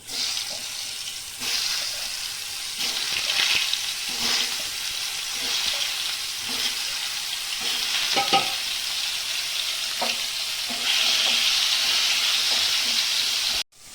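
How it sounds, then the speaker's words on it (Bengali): Pointed gourd sizzles steadily in hot oil, a loud continuous crackling hiss broken by occasional stirring scrapes that runs without talk until it cuts off abruptly. "তেলটা গরম হয়ে গেছে, আমি পটলটা দিয়ে দিব।"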